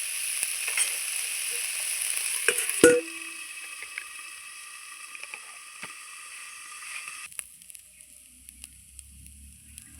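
Bottle gourd peel frying in a pan with very little oil sizzles with a bright, steady hiss, broken by a sharp clank of a utensil. The frying fades and thins out toward the end, and no one speaks.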